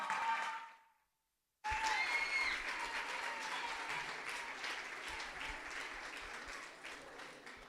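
A theatre audience gives a singing-contest semi-finalist loud, sustained applause that starts abruptly after a short silence and slowly fades.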